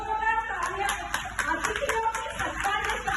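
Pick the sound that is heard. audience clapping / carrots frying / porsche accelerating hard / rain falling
audience clapping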